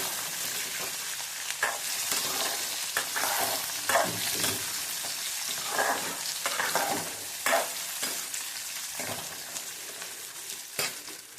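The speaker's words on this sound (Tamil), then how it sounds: "இப்போ நல்லா வெங்காயம் நல்லா எண்ணெயிலே செவுக்கட்டும்" Onions fry in oil in a pan for pirandai thovaiyal, a steady close sizzle broken by repeated scraping stirs from a spoon, with no talking.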